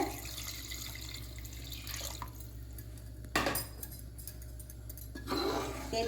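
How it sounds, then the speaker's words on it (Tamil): Water pours into a cooking pot while preparing country chicken biryani, a steady watery splash running for several seconds with a louder burst midway and near the end, no voices. "அதே கப்பில் நான் 4 கப் தண்ணி அளந்துருக்கிறேன். அதையும் சேர்த்துக்கோங்க."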